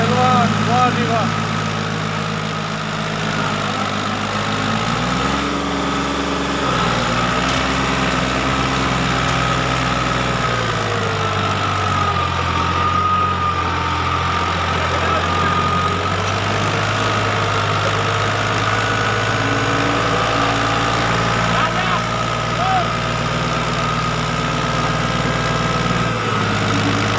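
A 3600 Heritage Edition tractor engine idles steadily with a low, throbbing hum that shifts pitch slightly early on, running continuously and loud throughout.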